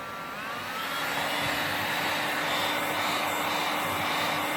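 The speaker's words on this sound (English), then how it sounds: "So my heat gun should be warm." A heat gun blowing hot air to warm wood, a loud continuous whooshing roar with a steady electric whine, running evenly throughout and growing slightly stronger after the first second.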